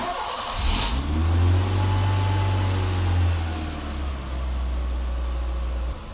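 A 39-year-old 1980s BMW E30 engine idles steadily after catching, a loud, close, even low drone holding for several seconds with no one talking over it.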